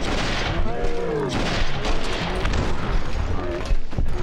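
Fallout New Vegas firefight: repeated booming blasts and gunfire crackle in an irregular, loud, close sequence, with someone talking over the noise.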